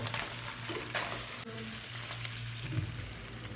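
Curry leaves dropped into hot oil where fish heads are frying, giving a steady, close crackling sizzle with a low hum underneath and a few sharper pops and clicks, with no voices.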